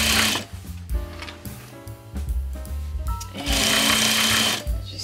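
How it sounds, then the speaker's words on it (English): An industrial sewing machine stitches denim jeans into a skirt, running in loud bursts of rapid mechanical chatter separated by brief pauses, with a long steady run near the end. "I'm sewing at a half an inch because that's the measurement that I have on my industrial machine"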